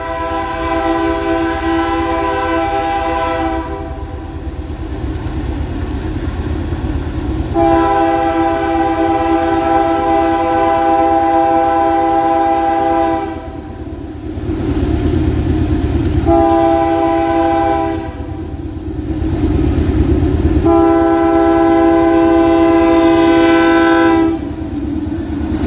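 CPKC 262, a southbound manifest freight train on the Shreveport Subdivision at Rich Mountain, Arkansas, sounds long, loud chord horn blasts in repeated sequence over a continuous heavy rumble of engines and rolling cars passing close by.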